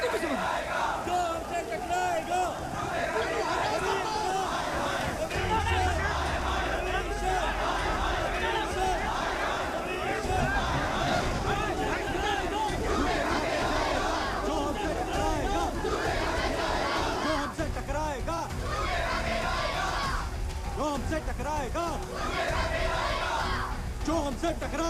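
A large crowd at a political event packed around a chief minister's arrival roars continuously, dense with shouting, chanting and overlapping voices, loud and close for the whole stretch.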